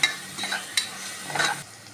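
Onions sizzle and rustle in a pan with a few scraping stirs, close and moderately loud, no voices.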